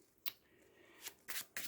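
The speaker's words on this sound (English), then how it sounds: "I'll give it one more shuffle of 5." A deck of playing cards is shuffled during a Marvel Champions card game, giving a few short crisp riffling bursts close by, separated by near silence.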